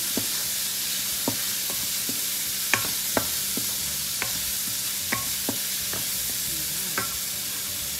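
Vegetables being stirred and mixed in a frying pan, with a steady background sizzle and scattered sharp scrapes and clinks of the utensil against the pan at an irregular pace.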